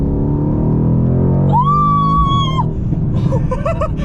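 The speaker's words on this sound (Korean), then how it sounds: "남성분들은 이렇게 아르르릉거리는 이 배기 사운드 그리고 이 소리를 살짝 들어보시면" A Mercedes-AMG C63 S exhaust gives a deep, loud engine rumble close by, rising into a sharp whining rev before dropping back to a throaty idle.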